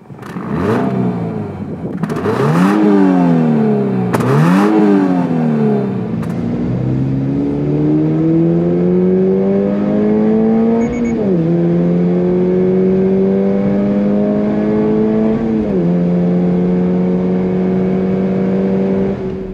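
A 2022 Toyota GR86 sports car engine blips sharply a few times, then revs up in long rising pulls with shifts, loud and close, no talking.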